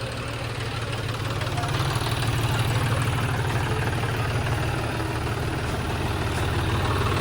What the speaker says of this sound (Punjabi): ਲਓ ਜੀ ਟਰੈਕਟਰ ਲਾਤਾ ਆਪਾਂ ਨੇ